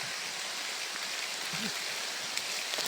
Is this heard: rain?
yes